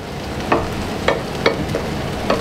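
Tomato chutney with turmeric and salt stirred in a pan on the stove, with a light sizzle and several soft scraping strokes of the spoon spaced roughly every half second to second.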